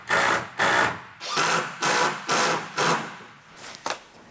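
A power drill whirs in six or seven short bursts, each spinning up and stopping, pre-drilling steadily into a plywood sheet at close range.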